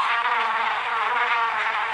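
Flies buzzing in a steady, close, high-pitched drone that holds without a break, with no voices over it.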